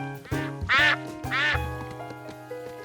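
Cartoon ducks quack in a short run of loud, nasal calls, three bright bursts over a sustained tonal background, close and clear with no talking.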